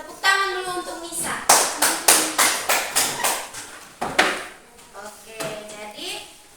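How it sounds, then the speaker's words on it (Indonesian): A small class of fourth-grade pupils claps in a primary school classroom for a classmate, about a dozen sharp, fairly even claps in a row, with a voice speaking just before and after. "Tepuk tangan dulu untuk Nisa."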